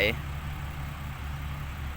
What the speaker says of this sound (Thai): ขับรถไถ